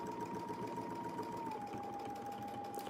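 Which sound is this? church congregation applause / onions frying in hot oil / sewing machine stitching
sewing machine stitching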